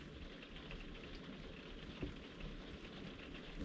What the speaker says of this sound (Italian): Piove, piove, piove,